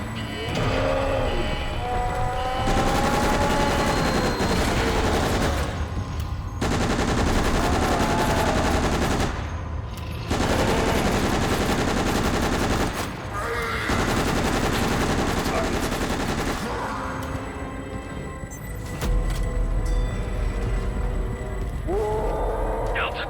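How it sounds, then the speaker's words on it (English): Tactical SMG bursts in Resident Evil: Operation Raccoon City, a lower-rate-of-fire submachine gun firing in several sustained loud bursts separated by short gaps, with creature growls and game effects around them. "Tactical SMG. Isn't that what I'm using? Lower rate of fire."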